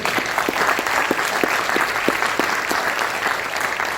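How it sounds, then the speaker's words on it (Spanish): An audience at a bank workers' confederation meeting applauds an economist, with steady, sustained clapping and some individual claps standing out crisply. "por favor, un aplauso para él"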